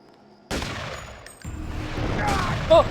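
Rockets launched by an enemy in the Deus Ex video game: a sudden loud burst of whooshing, crackling fire starts after a pause and keeps rumbling, with a second sharp blast near the end.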